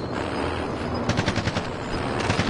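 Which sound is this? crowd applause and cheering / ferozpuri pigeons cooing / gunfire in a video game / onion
gunfire in a video game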